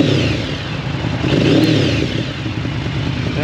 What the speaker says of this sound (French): Je peux mettre un petit coup de gaz?